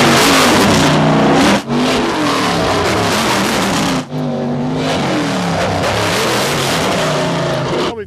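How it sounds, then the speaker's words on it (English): An off-road truck engine revs hard at a local speedway during a halftime show, a loud, sustained roar with rising and falling pitch and two brief dips as the throttle lifts, no talking. "local racer Bobby Woods brought out his off-road truck and showed off what he's got"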